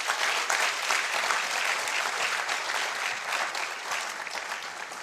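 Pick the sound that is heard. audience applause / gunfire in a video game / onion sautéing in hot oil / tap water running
audience applause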